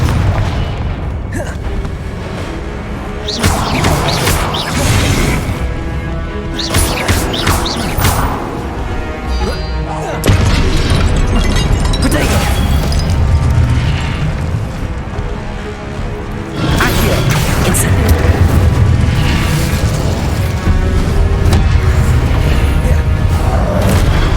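Repeated heavy spell blasts from the Confringo explosive curse in the Hogwarts Legacy video game, loud booming bursts landing every few seconds over a dense, rumbling game soundtrack.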